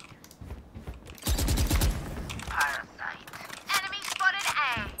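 Rapid gunfire from the video game Valorant bursts out in a loud, dense volley, followed by scattered shorter shots and game sound effects, with voices talking over parts of it.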